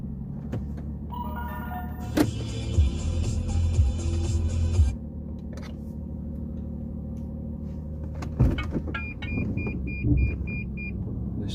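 A Lexus GS 450h hybrid car drives with a steady low engine and road rumble inside the cabin, punctuated by a bright tonal chime early on and a series of short repeating electronic beeps near the end.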